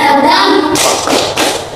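A group of children clapping hands in a rhythm game, with a few sharp, loud claps and thumps after a brief spoken lead-in, close and bright.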